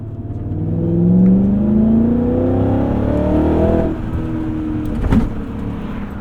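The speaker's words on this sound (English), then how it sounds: "The S62 has gobs of power and torque. Oh, and it sounds beautiful." A BMW E39 M5 Touring's S62 V8 pulls hard from inside the cabin, its deep engine note rising steadily in pitch under acceleration, then easing after a gear change and settling into a lower drone.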